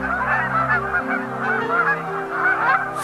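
A dense chorus of thousands of geese honking without pause as they mate and fight in a river delta, loud and close, with overlapping calls.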